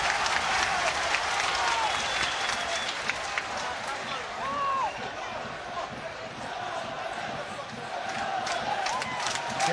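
A football crowd roars and cheers steadily throughout a Partick Thistle versus Ross County match in a stadium, with a dense wash of noise and scattered whistles rising above it.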